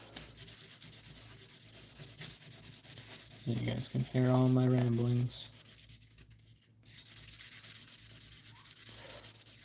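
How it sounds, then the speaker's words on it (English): An opal is hand-polished on a 1000 grit sanding pad, giving a soft, steady rubbing hiss that runs throughout while someone talks over it. "So as long as I did a good polish with the 800 grit, this 1000 grit doesn't have to do a whole lot of work."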